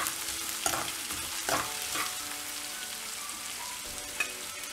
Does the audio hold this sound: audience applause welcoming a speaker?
no